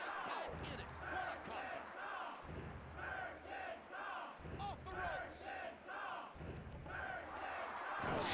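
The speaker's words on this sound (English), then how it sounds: "I can't tell what the crowd are chanting for Goldust" Crowd chanting in the WWF Warzone wrestling video game, a repeated two-part chant for Goldust that rises and falls in steady cycles, loud and continuous, with no talking over it.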